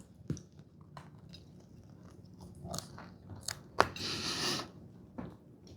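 A soft high-protein Greek yogurt everything bagel being bitten and chewed, a few faint crunchy bites followed by quiet mastication, close to the mic with no talking.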